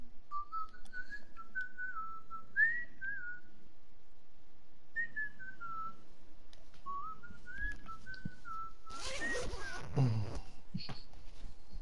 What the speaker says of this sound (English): You know what I'm whistling?